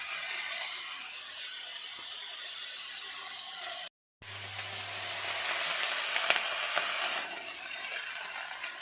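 Beans, cabbage and cauliflower chorchori frying in a pan, a steady close sizzle that drops out for a moment and then resumes with faint stirring clinks.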